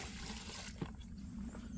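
Water poured and flowing steadily while a rabbit hutch is cleaned outdoors, a continuous close splashing rush with one brief louder splash partway through.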